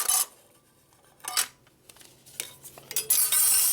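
Wet motorcycle clutch plates from a Harley panhead engine clink and rattle as they are handled, several short metallic bursts spaced irregularly over a quiet background.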